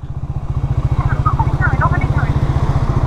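A red motorbike engine runs close by at a steady pulsing idle on a roadside near a ferry ghat, with people talking over it.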